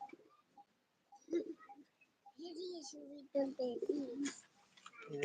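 Pigeons coo outside in soft repeated throaty phrases, close and fairly quiet, with brief pauses between calls and a faint voice nearby.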